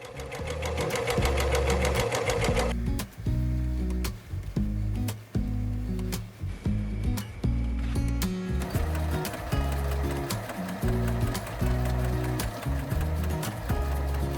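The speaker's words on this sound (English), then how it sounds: "Did I serge the gathered edge to make sure things were staying put?" A serger sewing machine stitching along a gathered fabric edge for a vintage-style apron, running in rhythmic bursts of fast mechanical chatter with short pauses, close and fairly loud, with music in the opening seconds.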